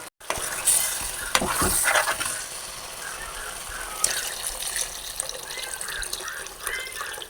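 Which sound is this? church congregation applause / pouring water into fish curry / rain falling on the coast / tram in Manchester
pouring water into fish curry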